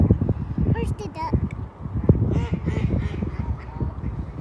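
Ducks honk and quack nasally on the water at close range, with overlapping calls throughout, mixed with people chatting outdoors on a nature walk.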